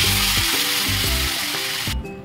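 Chicken marinated with salt, chili, ginger-garlic paste and turmeric sizzles and crackles loudly in hot oil, a dense continuous frying hiss with a faint rhythmic stirring or scraping underneath, with no talk.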